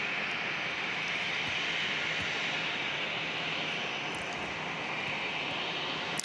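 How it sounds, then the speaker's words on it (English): A Southwest Airlines jet, flight 3435, takes off from San Diego International Airport, its engines a loud, steady broadband roar that holds at full strength throughout, with no talking. "Now, that was flight that just took off, JR. That was Southwest 3435."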